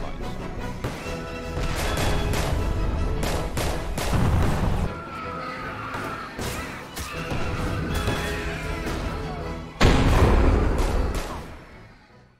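A Roblox Shell Shock World War One trench battle: dense, continuous gunfire mixed with heavy booming blasts from artillery and mines, loud and chaotic, with a big explosion standing out late before the noise fades.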